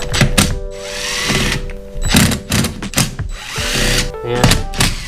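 A power drill backs out crankcase screws on a 1974 Honda MT250 engine being rebuilt, loud close whirring bursts broken by metallic clunks and brief pauses.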